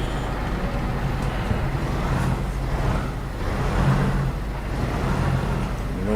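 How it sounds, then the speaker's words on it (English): A bus engine in the OMSI bus simulator game, a Fleetline or Olympian, drives steadily with a constant low rumble and road noise that swells slightly, with no talk. "I love the sound of this bus as you give it a ride."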